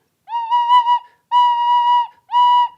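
Tin whistle playing a clear, steady note three times, each held about half a second to a second with brief gaps, bright and close with no other sound.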